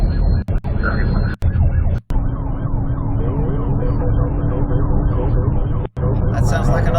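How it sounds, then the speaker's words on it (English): Another emergency vehicle's wailing siren sweeps up and down steadily during a high-speed police chase in East Cleveland, heard from inside a moving car over road and engine noise, with a few sharp clicks. "That sounds like another siren."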